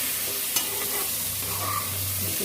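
Potatoes and pointed gourd stir-fry in a pan without oil, salted, with a continuous close sizzle and a sharp utensil knock early on, no voices.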